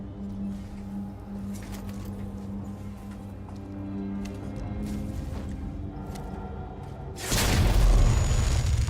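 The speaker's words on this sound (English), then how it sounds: "I'm gonna flashbang" A flashbang grenade goes off in the Alien: Isolation video game as one sudden loud burst near the end, after a stretch of quieter low game ambience.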